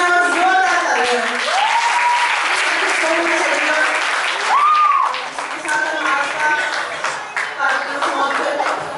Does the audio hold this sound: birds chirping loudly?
no